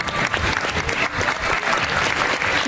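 Gala audience at a Miss Excellence Oise beauty pageant applauding a sound and light engineer, a dense continuous wash of clapping, loud and close, with no talk over it.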